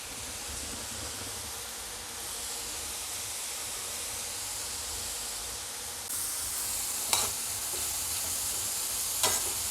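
Thin potato slices frying in hot oil over a high flame for batata chivda, a Marathi fasting snack; a steady, dense sizzle that grows slightly louder partway through, with a couple of sharp stirring clinks near the end.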